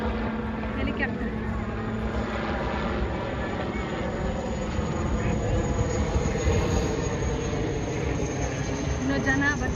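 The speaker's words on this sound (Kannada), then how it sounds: "ಹೆಲಿಕಾಪ್ಟರ್." A helicopter flies over an air show in Hyderabad, giving a steady, droning mechanical hum with a layered tonal whine that holds at a constant level throughout.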